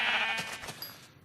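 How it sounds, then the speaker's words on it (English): A Minecraft sheep bleats once, a short, wavering nasal cry heard close and clear with nothing else over it. "there's a sheep over there, and there's one right here"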